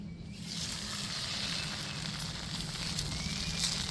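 A steady, continuous sizzle of a paratha frying in a little oil in a pan, close and even throughout.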